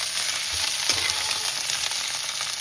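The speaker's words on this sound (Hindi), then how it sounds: "ये हल्का सा फ्राई हो जाएगा" Capsicum fries in a pan, giving a steady bright sizzle with faint stirring clinks and a few soft bumps. The sound is close and continuous, with no talking.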